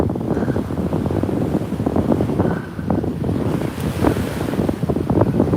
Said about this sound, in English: Bit of wind, guys. I don't know if you can hear me.